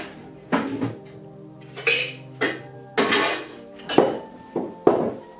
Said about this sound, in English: get your shaker and add some ice into it